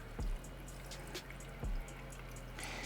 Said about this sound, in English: pour in my 4 cups of brine,